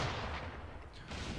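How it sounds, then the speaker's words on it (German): Naval cannon-style fire from a fire barrel launched at a gunboat in Assassin's Creed IV Black Flag, heard as faint, distant booming bursts over a rough, continuous rumble, with a sharper blast near the end. "wir feuern direkt ein Feuerfass ab"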